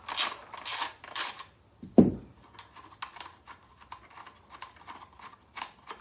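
A ratchet wrench works an 11 mm vibration bolt loose on a Predator 9000 watt generator, starting with three quick ratcheting bursts, then a sharp metallic clunk, then a string of soft close clicks and taps.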